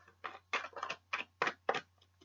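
Tarot cards shuffled by hand in a quiet room, about seven quick crisp riffling bursts in an uneven rhythm, close and fairly soft, with no talking.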